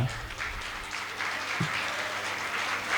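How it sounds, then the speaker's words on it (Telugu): College students at a freshers and farewell party break into applause, a moderate, steady patter of many hands clapping for a few seconds. "కనీసం మీకు మీరన్నా చప్పట్లు కొట్టుకోండిరా."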